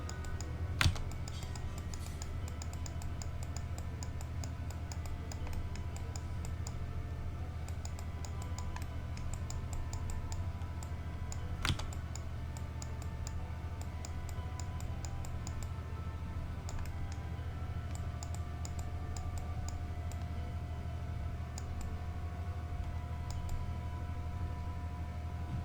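Computer keyboard typing during a pixel art drawing session: soft, fairly quiet keystrokes come in scattered bursts over a steady low hum, with a couple of louder isolated clicks.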